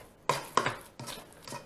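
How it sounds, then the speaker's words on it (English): Pierogi filling mashed by hand with a plastic masher in a bowl: four dull, soft thudding squelches spaced unevenly, close by and alone. "we're just going to get in there with that elbow grease and mash this up"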